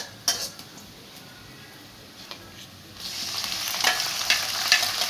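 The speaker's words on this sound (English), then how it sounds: "Just fire it all in there and stir it. Hence the name stir fry." Food being stir fried in a hot pan, with utensil scrapes and clinks at first, then a louder, steady sizzle from about three seconds on as ingredients hit the pan and are stirred.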